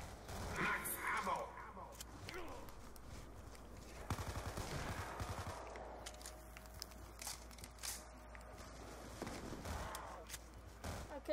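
Gunfire in a zombies video game, with scattered bursts of shots and impacts over a quiet game background, faint and intermittent, and a voice talking at points between the shots.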